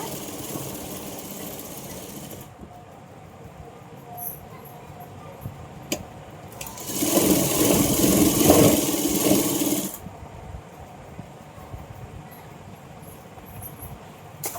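An electric sewing machine stitching a Patiala pant runs in a loud, fast whirring burst of about three seconds near the middle, preceded and followed by quieter room noise and a few small clicks.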